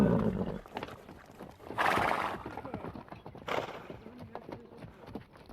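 A horse on a trail ride whinnies in two loud bursts, with soft hoof clops and rustling in between, fairly close by.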